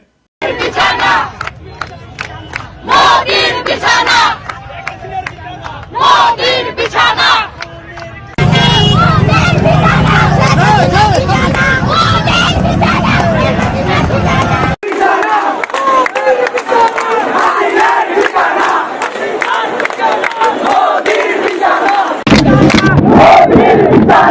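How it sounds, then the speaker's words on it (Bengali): A crowd of protesting revolutionary students chants slogans in unison, a loud, dense roar of many voices that shifts between rhythmic calls and sustained shouting. "কি কি স্লোগান দিছিল আমার ক্ষুদ্র ভ্রাতার ভগিনীরা, বিপ্লবী ছাত্র জনতা"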